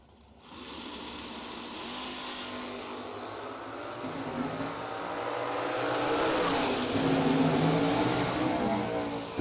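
A 1972 Dodge Challenger with a 451 cubic inch Mopar engine and a 1993 Ford Mustang door slammer launching at a drag strip, sustained loud engine roar rising as the cars accelerate away, no talk.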